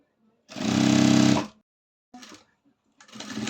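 Sewing machine stitching a blouse, one loud close burst of whirring followed by a short stitch and another run starting at the end.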